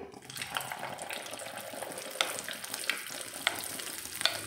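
Chicken pieces sizzle and crackle in hot oil, a busy frying hiss with a few sharp pops and spatters standing out, moderately close and with no talking.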